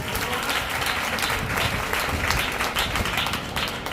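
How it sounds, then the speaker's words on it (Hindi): Congregation at a church Bible study service breaks into steady, dense applause, a continuous even wash of many hands clapping with no voice over it. "ताली बजा के।"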